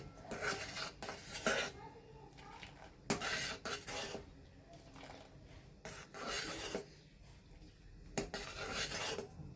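Thickening horse gram soup worked in a pot, with repeated scraping and clinking strokes of a spoon against the metal at an irregular rhythm, close and fairly soft.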